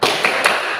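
A class of students clapping the 'tepuk semangat' chant, with three sharp bursts of claps landing at a quick, even pace.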